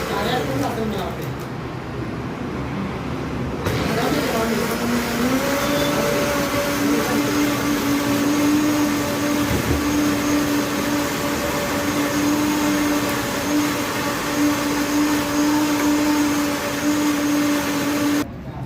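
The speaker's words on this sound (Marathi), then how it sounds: "वॉटरमेलन फ्रेश आपण टाकलं आहे ब्लेंडरमध्ये त्याच्यामध्ये थोडा आईस जातो आहे नंतर स्ट्रॉबेरी क्रश जातो आहे आणि हे होतं आहे ब्लेंड" A blender whirs steadily at close range, churning fresh watermelon, ice and strawberry crush into a mocktail, its motor pitch settling into a sustained drone that stops abruptly at the end, with a voice speaking over it.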